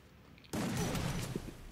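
A UMP submachine gun in a mobile shooter game opens up after a half-second of near silence, a loud dense burst of rapid automatic fire lasting just over a second.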